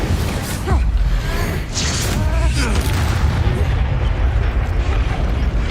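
An Incendio fire spell goes off in the Hogwarts Legacy game, with loud, continuous whooshing bursts and rumbling booms over a dense combat mix, and voices briefly cutting through.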